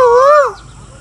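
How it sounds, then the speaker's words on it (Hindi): A single rising-and-falling whistled call of an Asian koel, clear and close, fading out after half a second. "वो सामने कोयल बैठी है।"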